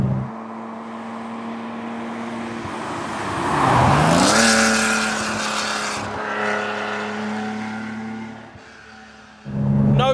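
Outlaw-style Porsche 911 with a 3.0 engine pulls through the gears, rising and falling revs swelling to a loud peak before easing off, a steady harmonic engine drone heard up close with no talking.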